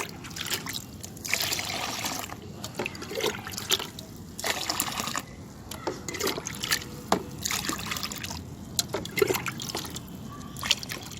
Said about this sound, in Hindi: और इसमें अब हम मिलाएंगे 5 पार्ट वाटर